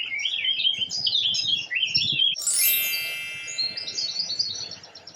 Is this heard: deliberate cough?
no